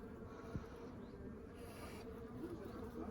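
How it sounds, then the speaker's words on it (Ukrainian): A faint, steady drone of buzzing bees fills the background, quiet and continuous, with a brief soft knock early on. "Бджоли гудуть."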